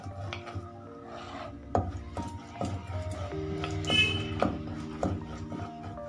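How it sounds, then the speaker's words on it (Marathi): Rolling pin pressing and rolling hot jaggery peanut chikki thin on a surface, with irregular knocks and soft scraping rolls, close by amid faint kitchen background with no talk. "आपल्याला जेवढी पातळ हवी तेवढी पातळ सुद्धा लाटू शकतो"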